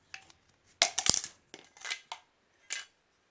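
A knife trims a Nu-Glaze S7 plastic glazing profile shorter. Close, sharp snips and crunchy scraping bursts come in a few short clusters with quiet gaps between them, and there is no talk.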